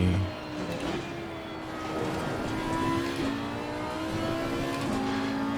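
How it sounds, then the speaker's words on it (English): Porsche Cup race cars in the ACC racing game at Oulton Park, a rising engine drone approaching and building steadily against the player's own running car, continuous and fairly loud with shifting engine pitch. "That's the car approaching."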